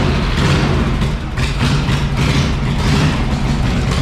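A panhead motorcycle engine fired up and running, a loud, close, rough low rumble with a steady pulsing beat that continues throughout.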